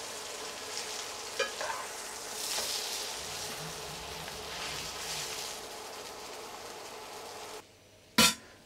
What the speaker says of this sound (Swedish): Snitslen ska stekas knappt 2 minuter per sida